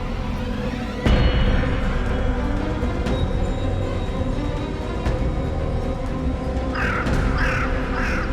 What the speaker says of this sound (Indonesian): Kok suara burung itu lagi?